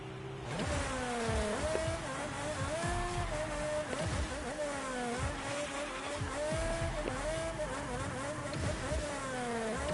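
A video game race car drifts and boosts, with loud continuous engine whine sweeping up and down in pitch alongside tire squeal and skidding, dense and unbroken with no talk.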